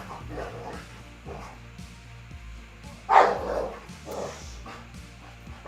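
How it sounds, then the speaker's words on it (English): A dog playfully roughhousing indoors gives a few brief barks and yips, the loudest burst near the middle, over a low steady hum. "can you please quiet the dog down?"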